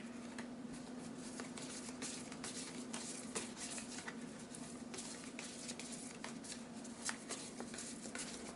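Tarot cards are shuffled by hand, soft and close with a quick, steady patter of riffling and sliding throughout.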